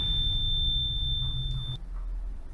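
A blue ghost-hunting device gives a single steady, high-pitched electronic tone for a little under two seconds and then cuts off abruptly, over a low background rumble.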